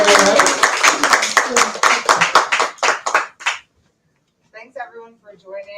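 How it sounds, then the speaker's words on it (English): Audience applause at a speaking event in St. Louis, a few hands clapping rapidly and then fading out, followed by silence and then a voice speaking. "If you would please, another giant round of applause."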